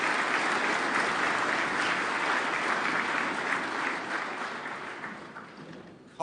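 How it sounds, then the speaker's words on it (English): A crowd at a GNCC senior finals event applauds a caller, a dense, steady burst of clapping lasting about six seconds that gradually tapers off. "big round of applause for caller number 3"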